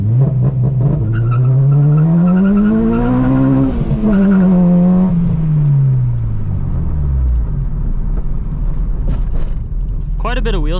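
Acura RSX Type S launched hard from a stop on a slight slope, engine revving high as the tires spin and squeal, pitch climbing through the pull, then falling away before a brief chirp at the end.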